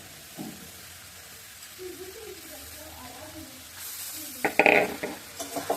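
A Bengali home-cooked fried dish with coriander leaves sprinkled on top is stirred in the pan, a soft sizzle under faint murmuring voice sounds, then louder scraping and clattering strokes near the end.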